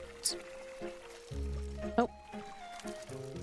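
A watering can filling with water in the cozy tea-shop game Wanderstop, a soft trickling pour that swells in the middle, under a quiet voice and faint game music.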